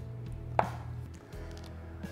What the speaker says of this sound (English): All right, so I've got our Spam sliced up.